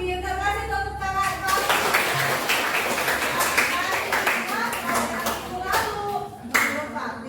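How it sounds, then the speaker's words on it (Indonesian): Classroom of children clapping together for a classmate, steady dense hand claps close by for several seconds, with a voice and teacher's talk mixed in. "Pintar, kasih tepuk tangan."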